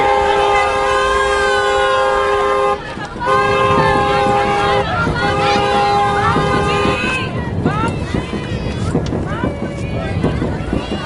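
A train horn sounds in two long, steady blasts over the rumble of a running train, set within a devotional song with singing voices over it.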